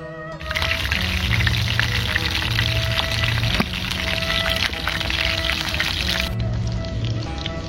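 Pindang fish frying in hot oil in a pan, a steady dense sizzle that stays loud and close throughout, with no talking.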